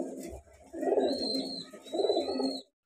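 A female white Diamond pigeon coos in two soft, close bursts of low throaty cooing, separated by a short pause, with a faint high background tone.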